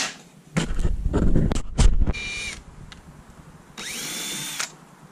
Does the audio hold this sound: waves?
no